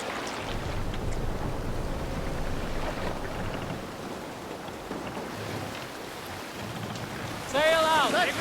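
A boat sailing on water in Assassin's Creed Valhalla, a steady wash of splashing water and hull noise carrying on for several seconds, with a brief burst of shouting voices near the end.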